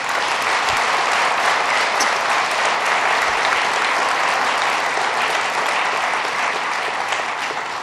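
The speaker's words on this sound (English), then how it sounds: "Let's give him a round of applause." Loud, dense applause from a summit audience on harmful algal blooms in the Hudson Valley, steady and unbroken for several seconds with no talk over it.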